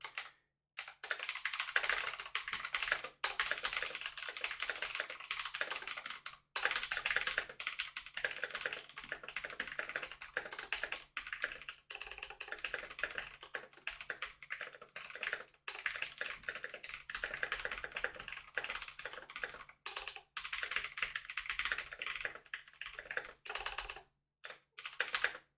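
Typing on a newly bought computer keyboard: a dense, continuous clatter of close keystrokes with a few brief pauses, no voices.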